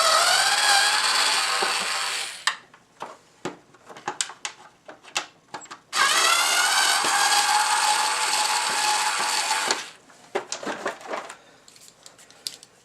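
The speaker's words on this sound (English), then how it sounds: "Remove these 2 screws." Screws come out of a Hoover WindTunnel upright vacuum with a ratcheting tool: two long, close, rapid clicking runs separated by scattered single clicks and handling knocks.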